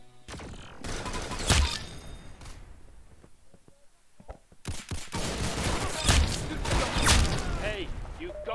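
Gunfire from the video game Arsenal, played on a new laptop: sharp bursts of shots and thuds cluster early, pause, then return in a dense, loud stretch of repeated fire with game effects throughout.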